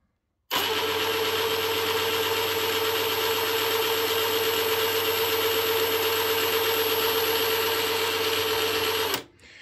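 Parkside Performance PASSP 20 Li A2 cordless impact wrench running free at a constant speed in a single loud, continuous whine that lasts about nine seconds and then cuts off sharply.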